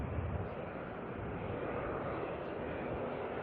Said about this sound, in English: ATR here coming on in from Napier, NZ5020